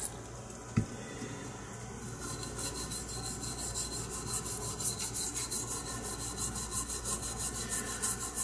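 Brushing and scrubbing across a corroded air conditioner circuit board, a steady close rasping rub with a faint regular pulse that runs through most of the stretch, preceded by a single sharp knock.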